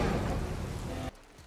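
Heavy rain pours steadily in The Last of Us Part 1, a dense loud hiss that cuts off abruptly after about a second, leaving near silence.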